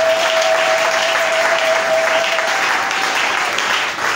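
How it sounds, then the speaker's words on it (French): A church congregation claps loudly and steadily for several seconds, a dense continuous applause close to the listener. "Acclamez pour le Seigneur."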